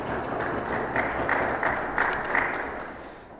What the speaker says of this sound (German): Herzlichen Dank dafür. Applaus.